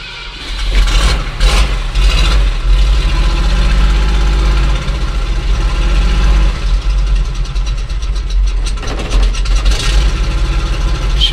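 A car engine in need of a valve job runs at a steady idle with a deep, loud rumble and a faint ticking rhythm throughout, with no voices over it.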